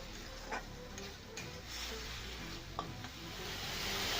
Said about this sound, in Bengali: আবারও নাড়াচাড়া করে ভেজে নিচ্ছি